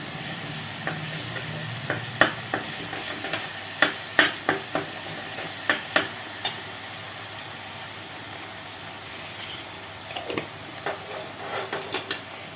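Ginger and okra fry in hot oil while a spoon stirs them, producing a steady sizzle punctuated by repeated scraping taps against the pan, close and fairly even throughout.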